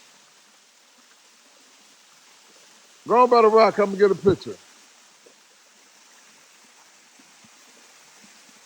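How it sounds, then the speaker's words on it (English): Waterfall in Georgia, a steady, moderately loud rush of falling water throughout, with a short stretch of talking in the middle. "Beautiful waterfall."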